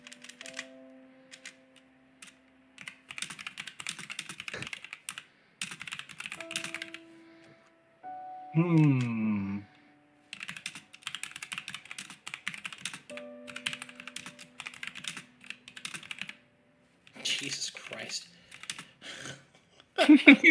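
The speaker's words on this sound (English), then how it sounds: "He's still typing." Keys clatter on a computer keyboard in irregular bursts of quick clicks, pausing now and then, with a few short murmured remarks and brief tonal sounds between the typing runs.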